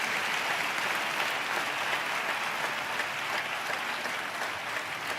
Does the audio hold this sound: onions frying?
no